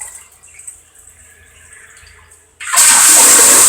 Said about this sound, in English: I'm a flush it.